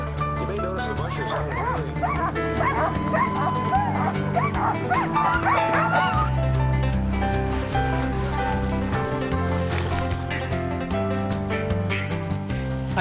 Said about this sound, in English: This is a sprint race where sled dogs see how fast they can run over short distances.